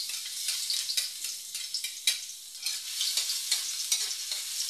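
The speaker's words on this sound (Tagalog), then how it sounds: "nagpainit na ako dito ng mantika. So, since mainit na siya, ilalagay na natin yung bawang." Garlic sautéing in hot cooking oil for pansit bihon, a bright, crackling sizzle with uneven spitting pops and occasional stirring scrapes, close and steady throughout without talk.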